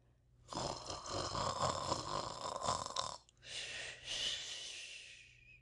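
A badger named Tommy Brock snores in two long, rasping breaths, the first rough and rattling, the second airier, close and fairly quiet, with a voice apparently imitating the snore.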